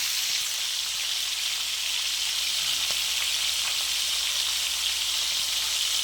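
Fish frying in a pan of spattering cooking oil, a steady dense sizzle and crackle running throughout at close range, with a few small knocks and no talking.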